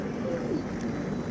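Pigeons in a rooftop loft give a soft, low coo that rises and falls once over a steady background hum.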